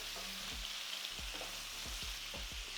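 Pre-cooked octopus frying in hot oil with paprika, a steady bright sizzle broken by several soft scraping stir strokes at roughly half-second intervals, close and moderately loud, no voices.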